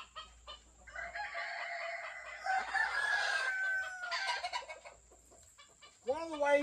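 Gamefowl chickens cluck close by in a farm yard, with a rooster's crow rising near the end of the clip.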